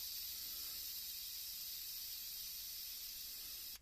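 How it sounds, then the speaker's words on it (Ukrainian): Gas venting from a refilled camping gas canister, a steady, strong hiss that runs unbroken for several seconds and then stops abruptly. "Ось так стравили."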